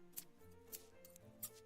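Shears snip three times in quick, crisp bursts, close and fairly quiet, over a low steady hum.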